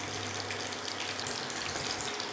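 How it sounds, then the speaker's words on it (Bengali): Chicken tikka pieces fry in hot oil, giving a dense, even crackling sizzle that stays loud and unbroken throughout. "এইভাবে করে ভেজে নিতে হবে সব।"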